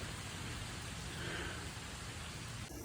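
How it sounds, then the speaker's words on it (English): Steady rain falls on a disc golf course, a continuous even patter close by with no voices. "it started raining"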